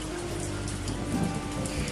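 Heavy rain pouring steadily, a dense continuous hiss of drops striking surfaces, with no voices.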